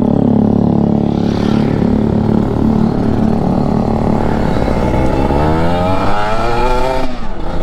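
A Kawasaki Ninja RR two-stroke motorcycle fitted with a VM28 carburettor and filter, revving in first gear while riding through Jakarta, its loud raspy engine climbing and wavering in pitch close to the rider, constant throughout.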